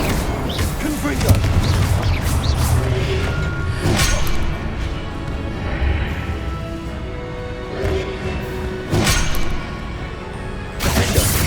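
In the video game Hogwarts Legacy, the spells Incendio and Confringo are cast, producing repeated fiery blasts and crashing impacts at irregular intervals over a steady combat din, with a voice talking throughout.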